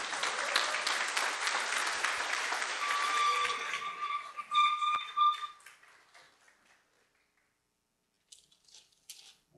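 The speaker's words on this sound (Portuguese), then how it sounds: "Uma salva de palmas a todos que estão qualificados para o Rio de Janeiro." A crowd at a business training event gives a round of applause for members qualified for Rio de Janeiro, dense clapping for several seconds that thins into a few scattered claps and fades, with a short trailing burst near the end.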